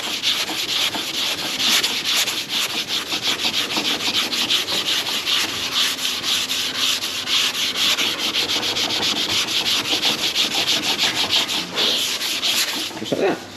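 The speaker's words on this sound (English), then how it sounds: "do you really want to be sitting watching me sand down a Sun-visor for this whole video?" A truck sun visor on an ERF Cummins restoration is sanded by hand, a close, continuous scratchy rubbing in quick back-and-forth strokes that runs steadily throughout with only brief breaks.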